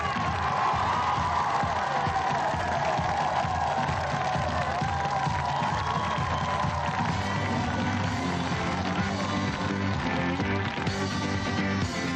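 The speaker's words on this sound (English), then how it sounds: "Let's have a nice round of applause" A 1978 television studio audience claps and cheers loudly and continuously for a band, a dense, steady roar of applause and shouting throughout, partly overlapped by music.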